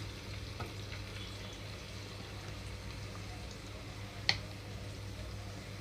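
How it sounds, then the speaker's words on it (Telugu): Onion pieces frying in a few spoons of hot oil over medium flame give a steady, low, even sizzle with a couple of faint ticks and pops, close but quiet, no speech. "ఆయిల్ హీట్ అయిన వెంటనే ఉల్లిపాయ ముక్కలు వేసేస్తున్నాను"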